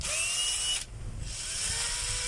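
Repaired power tool motor running continuously in forward and reverse, a close, high whining whir that briefly drops away and then picks back up to a steady spin.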